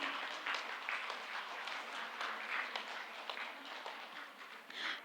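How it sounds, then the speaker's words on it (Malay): Scattered audience applause at a formal gathering with the Malaysian Prime Minister present, fairly faint and uneven, with individual claps standing out against a soft background. "Beri tepukan yang paling gemuruh adik-adik."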